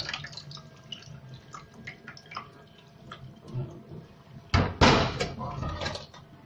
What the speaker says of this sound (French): Je vais vider le faitout. Et voilà, l'eau est claire.